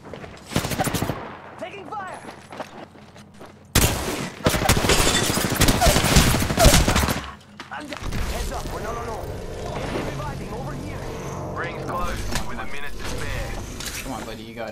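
Heavy automatic gunfire in the battle royale game Apex Legends, long loud bursts of rapid shots with mechanical weapon clatter, followed by quieter game ambience and voice lines.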